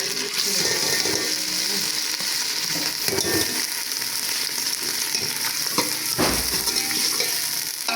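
Steady, continuous sizzling of onions frying in a pan, loud and close, with occasional stirring scrapes and no talking.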